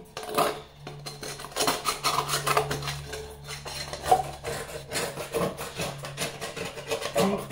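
Dough scraped out of a mixing bowl, with repeated close, rough scraping and rubbing strokes in an irregular rhythm and occasional light knocks against the bowl, with no talking.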